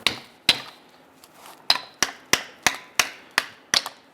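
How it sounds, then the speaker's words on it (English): Sharp metallic hammer blows knocking out rear brake pads on a 2005-2010 Chrysler 300, about nine of them, coming in a steady, fairly quick rhythm at close range, with no talking. "you can simply grab a little hammer"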